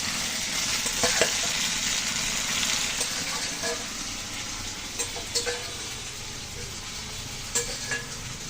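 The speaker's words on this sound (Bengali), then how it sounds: "আমি এখন মাছ দিয়ে দিচ্ছি এই সাথেও।" Shing fish frying in a pan, a continuous close sizzle with occasional sharp clicks and scrapes from a spatula stirring the pieces.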